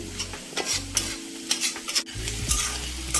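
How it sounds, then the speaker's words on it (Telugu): Gongura curry ingredients frying and being stirred in a pan, a steady close sizzle broken by repeated scraping strokes, with no talking. "ఫ్రై వేగుతుంది"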